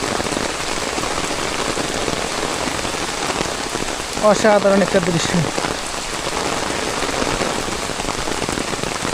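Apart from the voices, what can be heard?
heavy rain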